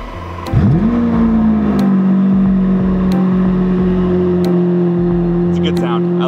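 A Lamborghini Aventador engine fires up with a sharp rise, then settles into a loud, steady idle drone that continues close by.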